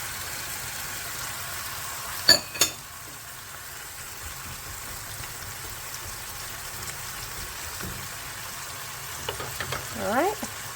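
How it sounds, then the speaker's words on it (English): Red onion frying with chicken in a pan, a steady soft sizzle running throughout, with a couple of sharp knocks early and a brief clatter near the end. "I'm going to add the red onion."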